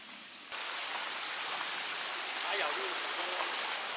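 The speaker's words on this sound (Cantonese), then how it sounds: "沿途水聲潺潺" Stream water flows and splashes beside a hiking trail, making a continuous broad rushing hiss that starts abruptly and stays steady and close, with no talk over it.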